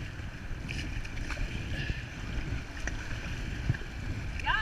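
A canoe or kayak being paddled on open water, with soft, irregular water swishes and a low wind-buffeted rumble throughout, faint splashes scattered across the stretch.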